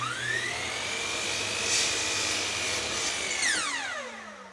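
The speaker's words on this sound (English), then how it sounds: "So I'll just mark that and I'll cut it on the miter saw." A miter saw cuts a piece of wood nearby, its motor whining steadily at high pitch for several seconds before the blade winds down with a falling tone at the end; no one speaks.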